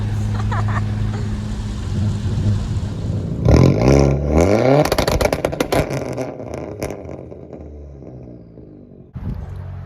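An Audi A4 1.8T with a catless test pipe and full straight-pipe exhaust revs hard in loud, rising bursts with crackling exhaust pops and flames, then settles into a rough, rumbling idle.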